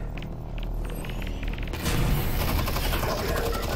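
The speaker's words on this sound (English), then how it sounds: "Feel the wrath of grenades!" Grenade blasts in the video game Half-Life: Alyx: a loud, dense burst of explosive roar and crackle sets in midway and holds over a steady rumbling backdrop, with a voice briefly under the din before it.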